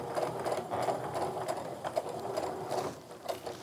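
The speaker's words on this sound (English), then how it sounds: "I'm going to reinforce those stitches." A sewing machine runs steadily, reinforcing the stitches on a fabric makeup bag. It gives a soft, continuous rapid whir with a faint rhythmic pulse throughout.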